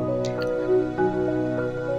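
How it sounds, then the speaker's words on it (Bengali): Cut tomatoes drop into simmering dal cooking in a pot over a clay stove, giving soft wet plops and a drip-like squish over a steady bubbling hum, close and clear with no talk. "তো কথা কইতে কইতে আমি আবার টমেটো কাইটা ডালের মধ্যে দিয়ে দিলাম।"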